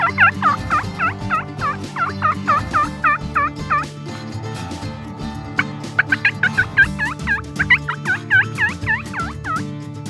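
Wild turkey toms gobbling near a group of hens outdoors, bursts of rattling gobbles overlapping in two loud clusters, close and clear over a low background murmur.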